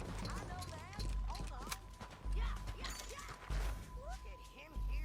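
Horse hooves clip-clopping in a video game, a run of close rhythmic hoof steps mixed with rattling gear and game effects.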